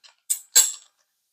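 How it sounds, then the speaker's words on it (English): A spoon stirring melting butter in a pot, giving three quick, close metallic scrapes within about a second, separated by silence. "Gonna stir it around. Get it to melting."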